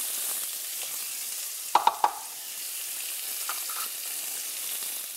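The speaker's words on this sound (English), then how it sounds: "cooking oil in the same pan that you did your lambs, and 1 cup of chopped onion" Chopped onion fries in oil in a pan that has already cooked lamb, a soft continuous sizzle with a quick burst of three utensil clinks partway through.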